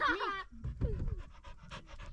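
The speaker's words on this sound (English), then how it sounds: "Get that dog back" A dog pants quickly and loudly close by in an outdoor setting, its rhythmic breaths following a brief whine at the start.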